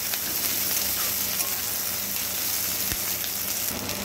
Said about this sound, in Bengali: এর মধ্যে দিয়ে দেব রসুনগুলো, সাথে কাঁচা লঙ্কাটাও দিয়ে একটু ভালো করে ভেজে নেব